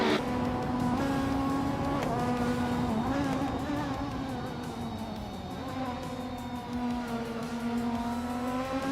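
A 1998 Alfa Romeo 156 GTA among other touring cars in a racing video game, high-pitched engines whining steadily with shifting pitch as several cars run close together, continuous and fairly loud.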